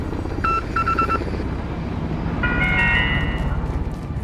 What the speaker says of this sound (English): you will hear Morse code again and then a short jingle at the end